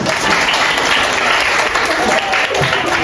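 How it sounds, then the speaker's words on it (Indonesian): A classroom of students claps together, loud and close, a thick continuous patter lasting about three seconds without a break. "Mari tepuk tangan."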